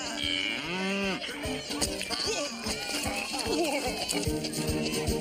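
A cow lets out a long, low moo at the start. Busy film-soundtrack noise follows, with clip-clops, clatter and other farm-animal sounds continuing underneath.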